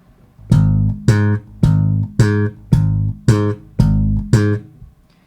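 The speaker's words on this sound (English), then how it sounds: "slapping the root and popping the octave" Slap bass playing a root-octave pattern, eight evenly spaced notes alternating a thumped low root with a popped octave, each ringing briefly before the next, loud and close with nothing else.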